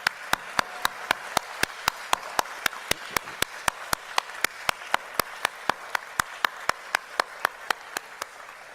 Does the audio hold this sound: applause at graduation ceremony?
yes